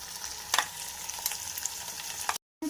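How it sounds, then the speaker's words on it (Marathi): Ground green masala sautéing with cluster beans in a pan, giving a soft, continuous sizzle with a few brief stirring scrapes, fairly quiet, before a short silent gap near the end. "छान असं परतून घेऊ"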